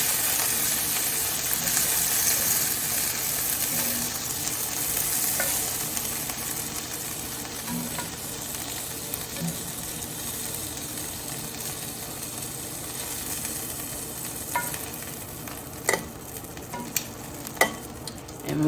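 Pork browning in a pan for an Italian stew, a steady hiss and crackle of frying and sizzling that runs throughout, with a few sharper pops and clatters toward the end.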